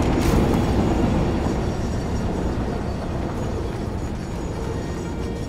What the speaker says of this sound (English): So I got my train coming in here,